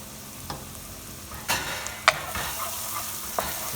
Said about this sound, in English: Saute this well.